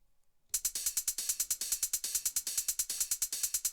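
After a brief quiet start, a techno hi-hat groove with choke off kicks in, with fast, bright hi-hat hits in a steady driving pattern whose hits ring into each other, loud with no voices.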